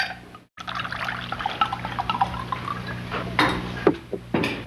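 White wine is poured into a glass during a Clue VCR mystery board game, a continuous liquid gurgle lasting a few seconds with a small clink near the end, over a faint background hum.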